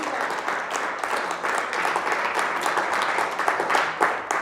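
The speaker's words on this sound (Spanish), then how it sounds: "Fuerte el aplauso al Señor." Steady, dense applause from a large crowd at a religious gathering, many hands clapping continuously at an even level throughout.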